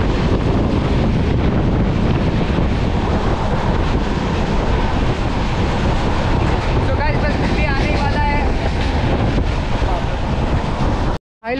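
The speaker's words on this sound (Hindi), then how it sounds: "मुँह पे गर्म हवा लग रहा है" Hot, gusty wind buffets the microphone during a summer rail trip in India, a dense, unbroken roar that stays loud throughout and stops abruptly at the very end.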